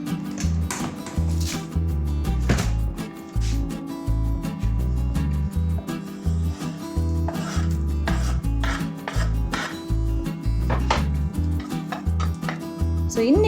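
Electric vegetable chopper in a home kitchen: a loud, continuous rhythmic chopping and whirring sound with repeated sharp clacks, close, lasting throughout with no talk.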